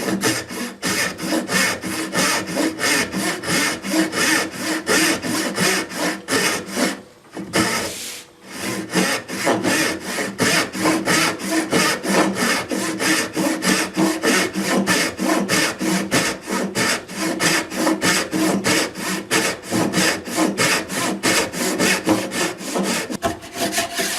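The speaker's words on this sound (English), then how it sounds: "I'll have to get the tenon saw and give it a couple of strokes with that." Tenon saw cutting through wood by hand, a steady run of close, loud rasping strokes in even rhythm with a brief pause partway through, no voices.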